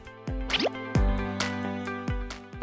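Cold naengmyeon broth is poured and ice dropped in, giving a handful of close, distinct plops and liquid splashes spaced through a quiet moment.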